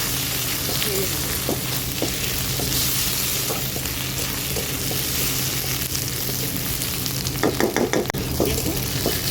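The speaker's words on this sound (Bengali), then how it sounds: "আদা রসুনটা দিয়ে ভালো করে মশলাটাকে ভেজে নেব।" Spice paste with ginger and garlic frying in a pan, a steady close sizzle with scraping stirring strokes throughout and a brief burst of louder crackling near the end.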